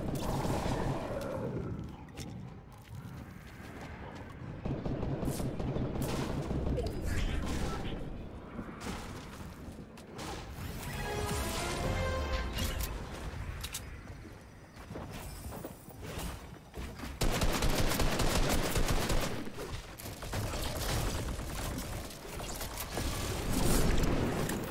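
Bursts of gunfire and clattering mechanical action ring out during a Fortnite match, loud and irregular, with some sections denser than others.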